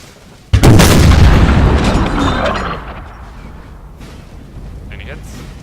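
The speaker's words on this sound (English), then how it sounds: "Let's get a good Swedish artillery volley then." A Swedish artillery volley fired in the Napoleon Total War video game, a sudden loud cannon blast that rumbles and fades over a couple of seconds into distant battle noise.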